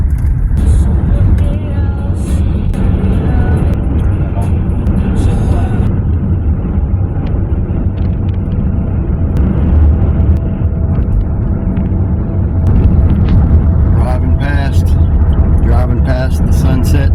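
A car drives past the Sunset Grill in Marathon in the Florida Keys, with a steady close road and engine rumble throughout and people talking over it.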